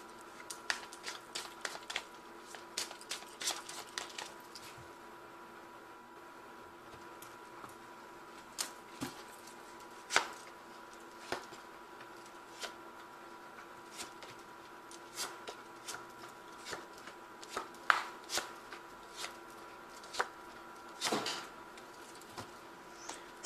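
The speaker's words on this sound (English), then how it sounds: "I'm just going to draw some cards from the Tarot of the Sweet Twilight." A deck of tarot cards is shuffled and cards are drawn one by one. The clip holds crisp, quiet riffles and sharp flicks spaced irregularly throughout, with no voice over them.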